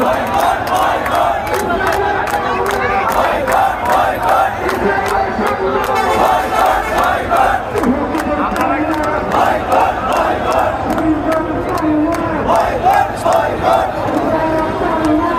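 A large crowd in a street procession chanting slogans in unison, loud and continuous with a rhythmic call-and-response pulse of many voices.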